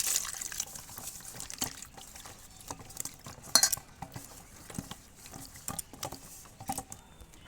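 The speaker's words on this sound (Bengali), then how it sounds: "এবার আমি আমগুলো ধুয়ে নেব।" Freshly picked raw mangoes from a home tree being washed by hand in water, with soft sloshing, stirring and dripping, occasional clinks of a bowl, and a brief louder splash midway; no voices.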